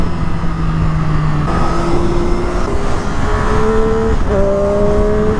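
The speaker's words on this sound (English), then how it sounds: "That's a lot of traffic." Motorcycle ride through road traffic behind an MT-07, with loud continuous engine and road noise and rising and falling engine tones as vehicles and the bike change speed, no talking.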